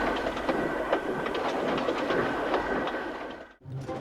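Thomas the tank engine running along rails: a loud, steady rumble with a rhythmic clickety-clack that cuts off abruptly near the end.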